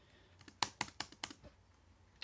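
Typing on the keyboard of an HP ProBook 645 G4 business laptop: a quick run of about eight crisp, close key clicks in an uneven rhythm, then a quiet pause and one last keystroke.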